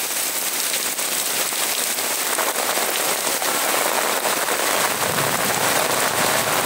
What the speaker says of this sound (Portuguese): Chuvinha intensa.